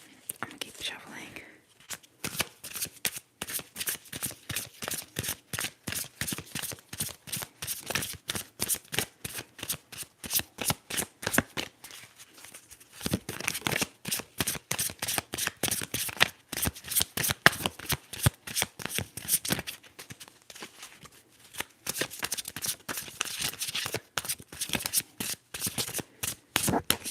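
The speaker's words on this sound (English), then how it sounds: "I'm gonna keep shuffling." Tarot cards being shuffled close up, a long run of quick, crisp riffling bursts with brief pauses, accompanied by soft whispering.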